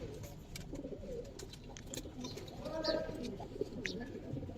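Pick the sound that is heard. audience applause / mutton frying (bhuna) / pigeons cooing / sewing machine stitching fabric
pigeons cooing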